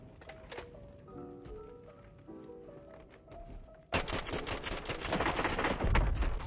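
Gunfire from the video game Warzone erupts suddenly after quieter game sounds, a loud, dense run of rapid shots continuing to the end without talk.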